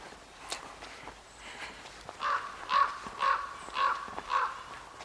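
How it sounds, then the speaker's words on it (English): A raven calls overhead in a forest, a series of about five harsh, evenly spaced croaks, fairly loud, over faint footsteps and quiet outdoor ambience. "Is that a raven? Right overhead."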